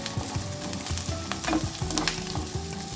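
Large onions fry in a pan for a thuthuvalai chutney, giving a close, busy sizzle with rapid crackling pops and a faint low hum underneath.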